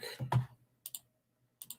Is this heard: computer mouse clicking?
yes